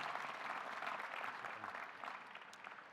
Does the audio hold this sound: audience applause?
yes